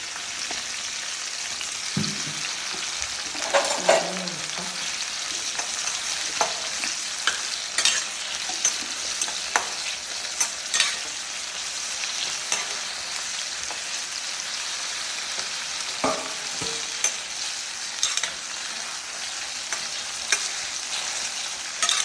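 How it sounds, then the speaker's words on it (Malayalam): Steady frying sizzle of coconut oil in a hot pan, a constant crackling hiss with occasional scrapes and clinks of stirring, no voices. "ചട്ടിയൊക്കെ നല്ല ചൂടായി കുറച്ച് വെളിച്ചെണ്ണ ഒഴിച്ചു കൊടുക്കാം"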